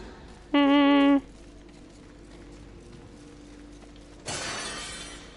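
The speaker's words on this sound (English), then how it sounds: "Smashing pots." Pots breaking in the video game Darksiders 3: a bright tonal chime first, then a sharp shattering crash near the end over quiet game ambience.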